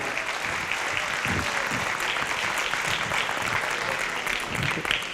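Steady crowd applause fills a lecture hall during a talk, even and sustained throughout without a pause.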